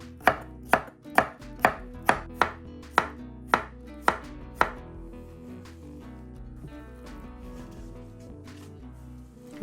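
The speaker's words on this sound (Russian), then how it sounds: "Вот так нарезаем." A knife chops cucumbers sharply on a board about ten times in a quick, even rhythm, close up, then stops, leaving quiet background.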